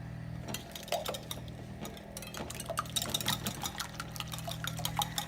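Heavy cream poured into a breakfast casserole mixture, a soft liquid trickle with occasional light clinks of a bowl or container, heard fairly faint and close.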